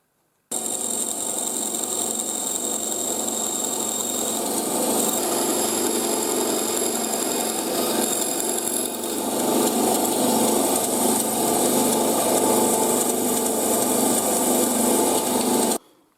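A bandsaw hums loudly and steadily while cutting wood for sphere turning templates, a constant close whine that shifts slightly in tone partway through and stops abruptly at the end.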